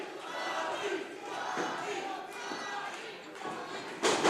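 A wrestling crowd at the Deadly Resolution 2024 event roars in steady, dense cheering that fills the arena, with a sharper swell of shouting near the end.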